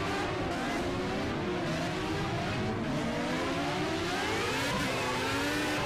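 Race car engine in the racing game Project CARS, an older Formula One style car, revving and howling continuously with shifting pitch throughout, loud and close, with faint voices underneath.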